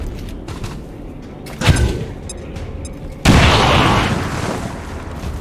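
A frag grenade goes off in XCOM 2: a loud boom with rumbling debris follows a sharper earlier burst, and the blast's roar lingers for a couple of seconds before fading.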